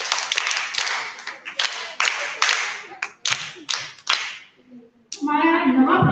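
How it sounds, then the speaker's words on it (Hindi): A small audience at a women's gathering claps in short bursts, bright separate rounds of hand claps with brief gaps between them, and a voice comes in near the end. "तालियां।"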